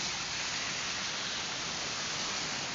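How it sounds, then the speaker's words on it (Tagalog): Steady, dense downpour of heavy rain, a constant broadband hiss with no pauses or voices, fairly close and even in loudness throughout. "Ang lakas ng ulan, di ba?"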